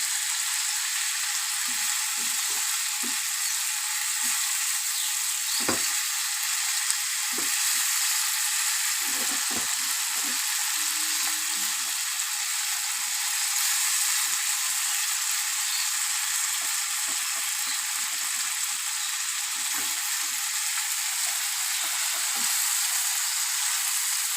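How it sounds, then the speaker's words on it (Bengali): Masala spice paste sizzles and fries steadily in a pan while being sautéed, a constant close hiss with occasional stirring scrapes and no voices. "মশলাটা আমার কষানো হয়ে এসছে।"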